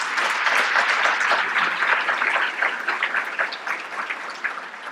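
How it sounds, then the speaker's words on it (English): An audience at a Minnesota gubernatorial debate applauds the candidates, a full, steady round of clapping that starts strong and gradually thins toward the end, with no talk over it. "let's give them a round of applause"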